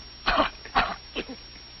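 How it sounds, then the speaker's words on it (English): Three short coughs, the first two strong and close together, the third softer, with quiet between them. "Cough."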